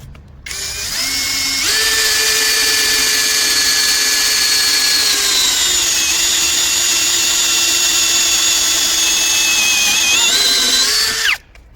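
A Procraft PA 18 cordless drill with a 6 mm Irwin bit bores into metal in one sustained, loud, high whine that shifts pitch partway through, then stops abruptly.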